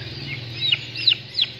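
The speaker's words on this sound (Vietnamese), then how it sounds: "đứa gà Tây choai nhá, tháng tuổi nhá" Month-old young turkeys clucking and peeping in a farm setting, with a few short high calls rising over a steady low background hum.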